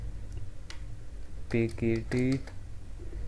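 A computer keyboard clatters as an email address is typed in, light quick keystrokes running under a brief stretch of speech in the middle.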